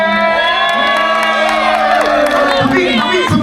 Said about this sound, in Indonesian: tepuk tangan buat Mas Wawan.